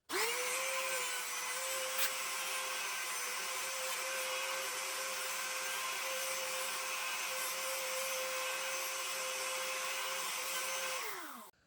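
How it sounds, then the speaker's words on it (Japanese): A power tool carves into the back of a guitar neck to expose the truss rod during a repair, running as a steady, continuous motor whine for about eleven seconds before spinning down. "じゃあ引き続き、削っていきます。"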